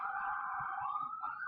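Emergency vehicle sirens near a hospital sound as a steady, moderately faint high tone that holds without pause, with low rumbling background noise beneath.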